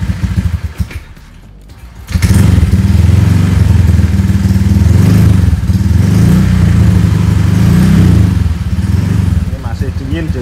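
A Honda Vario scooter with a stroked-up four-valve engine fires up cold and settles into a loud, close, chugging idle with repeated blips of the throttle, while someone talks over it.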